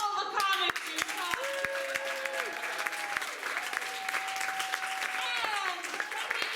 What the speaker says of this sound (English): Can we get just a round of applause to all the comics you saw?